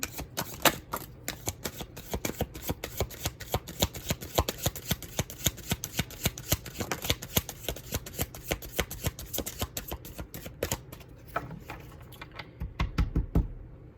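Tarot cards being shuffled for a pick-a-card reading: a steady, dense stream of crisp riffling and flicking close to the microphone that runs for the whole stretch, with no talking over it.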